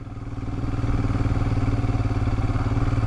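A Royal Enfield Himalayan motorcycle is ridden off road carrying a pillion. Its engine gives a loud, close, steady thumping drone that builds slightly at the start and then holds a throbbing rhythm, with no voices.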